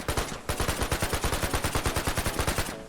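Rapid automatic gunfire in the video game Project TX blasts boxes apart, a loud, even stream of shots at a quick steady rhythm lasting over two seconds, then cutting off abruptly.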